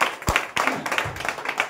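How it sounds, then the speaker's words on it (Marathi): Audience clapping at a Warkari bhajan doublebari event, a loud burst of claps with sharp transients that tapers into steady scattered applause. "त्यांच्यासाठी एकदा जोरदार टाळ्या झाल्या पाहिजे"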